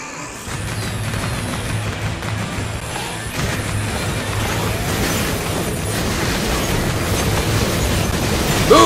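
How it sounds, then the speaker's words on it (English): Dense, continuous rumbling blasts and crackling bursts of fireworks in the video game Sunset Overdrive, building steadily louder over several seconds with a sharp pop at the end. "How about a little fireworks?"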